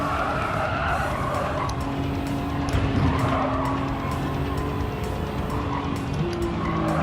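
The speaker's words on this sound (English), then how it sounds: "another one that's just slammed on brakes in the middle of the track" Cars in Gran Turismo 7 brake hard mid-track, tires skidding and squealing in sustained screeches over steady engine roar throughout.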